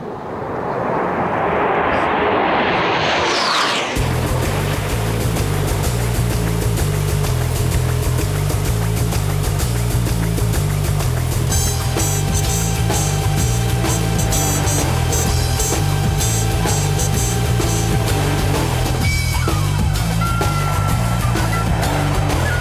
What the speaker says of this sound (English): a Hawk T Mark 1 will fly through it at 7 miles a minute